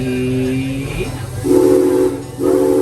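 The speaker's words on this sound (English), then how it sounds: "double whistle, which means we are ready to go" A steam train whistle blows twice on the Serengeti Train at Busch Gardens Tampa, a steady hissing tone, then a pause and a second, louder blast, over rumbling engine noise.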